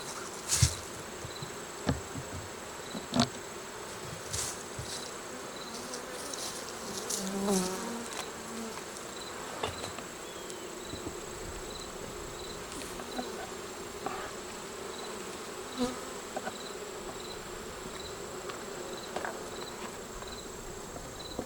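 Honeybees drone in a continuous buzz while a beehive is open for inspection, with faint clicks and taps of hive parts over it and no one talking.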